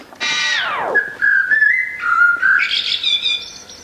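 Chaffinch song played back slowed down, heard as a falling whistled sweep followed by a series of wavering tonal whistles and higher trills, clear and close with no voices.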